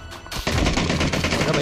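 Rapid gunfire from a shooting video game, dense bursts running continuously after a short lead-in, loud and close, with a voice briefly audible.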